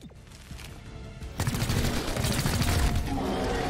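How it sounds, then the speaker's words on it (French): A burst of rapid gunfire in the tactical video game XCOM Chimera Squad rattles out loudly after a quieter opening, sustained volleys layered with booming impacts. "Du coup, on va lui tirer dessus."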